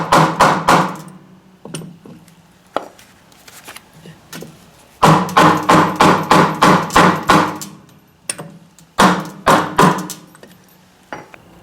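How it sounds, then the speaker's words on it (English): A snow blower wheel is hammered onto its axle in bursts of sharp metallic taps, several quick strikes at a time with pauses between, close and loud. "Tap the wheel until it goes all the way in."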